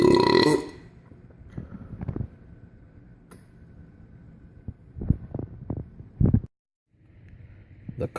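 A series of burps and belches: one loud opening burst, then several short throaty eructations scattered across the stretch and a louder cluster near the end, with near silence between them.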